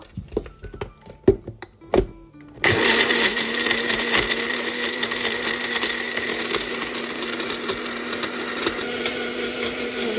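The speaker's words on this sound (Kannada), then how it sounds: "ಇವಾಗ ಗ್ರೈಂಡ್ ಮಾಡ್ತೀನಿ." A mixer grinder starts with a loud, steady whirring roar while grinding doddapatre leaves with pepper and a little water, after a few sharp clicks and knocks of the jar being set.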